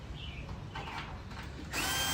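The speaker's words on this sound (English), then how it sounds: "can use a nut driver, either a power drill or a handheld" A power drill or nut driver takes the screws off an air conditioner condenser cover. The motor whirs steadily and close by for about two seconds and grows louder near the end, with no voices.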